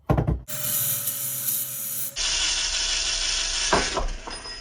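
A motorcycle bolt head is cleaned up on a power tool, probably a wire wheel or grinder, with a loud steady whir and grinding rasp, close by and alone, that shifts pitch partway through.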